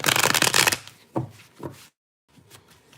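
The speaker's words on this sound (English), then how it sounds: "Let me pull some tarot here for you." Tarot cards are riffled and shuffled close up in a dense papery flutter, followed by a few softer slaps and taps of the deck with a brief silence near the end.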